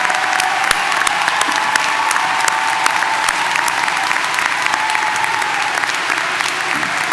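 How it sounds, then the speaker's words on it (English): A large high school graduation crowd gives the faculty sustained, dense applause, an even roar of many hands clapping at a steady level throughout, with a few scattered cheers. "Please join the class of 2019 in giving our faculty a well-deserved round of applause."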